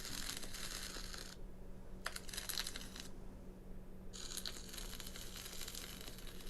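Crinkly crackling from a phone ASMR app comes in three bursts separated by quiet gaps, a faint steady hum underneath, with no talking.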